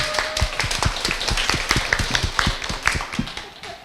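Scattered hand claps from a small group of club members at a university talk, a sparse, uneven patter of individual claps that never swells into full applause.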